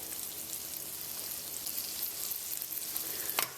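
Battered yellow bass fillets frying in hot oil, a steady dense sizzle with crackling throughout and a brief louder pop near the end, close and with no voices.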